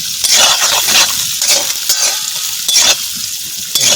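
Capsicum and carrots stir-frying in a pan, making a loud, close, hissing sizzle with rhythmic scraping swishes as the vegetables are tossed, and no talking.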